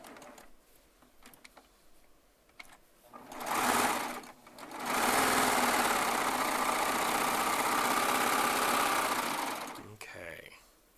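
A Baby Lock Triumph serger sews charm squares together. There is a short burst, then a long loud steady run that stops near the end, with brief talk before and after.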